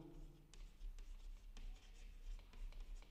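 Pen writing on paper during a bookkeeping lesson, quiet scratchy strokes with short taps and pauses between words, close and faint over a low steady hum.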